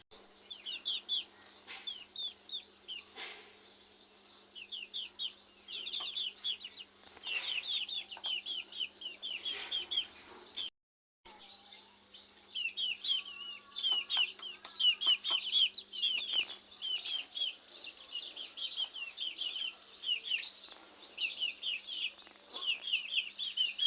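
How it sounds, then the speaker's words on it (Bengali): Chickens at home clucking and calling in repeated bursts over a quiet background for nearly half a minute, with a brief pause midway, moderately close, with no talk. "আমার বাসায় মুরগিও আছে। ওদের আওয়াজটা আমার কাছে অনেক ভালো লাগে।"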